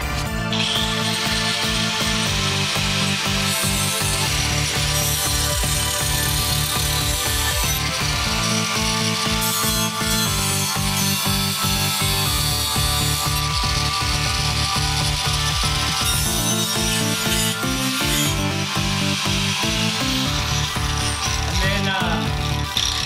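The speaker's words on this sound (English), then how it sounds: "I'm just going to use a grinder because it's a lot easier" An angle grinder cuts slits into the metal brake dust shield of a Miata during a big brake kit upgrade, a loud, continuous high-pitched whine with grinding rasp that barely pauses for the full length.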